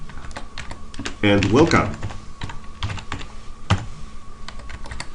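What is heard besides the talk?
typing C code on a computer keyboard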